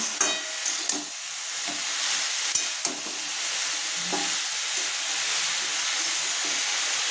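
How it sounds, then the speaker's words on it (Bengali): Fried spices are stirred into pumpkin greens with masoor dal in a hot pan. A steady close sizzle carries throughout, with scattered scraping and clinking strokes of the spoon against the pan. "যে মশলাগুলো ভাজলাম শাকের সঙ্গে মিক্স করে দেবো, সেটাকে একটু নাড়তেই থাকবে"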